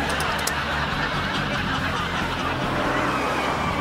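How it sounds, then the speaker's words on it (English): Car with a 6-litre, 440-horsepower V8 engine driving, a steady loud rumble with broadband road and engine noise throughout, no clear breaks. "It's got a 6-litre V8. We're talking 440 horsepower."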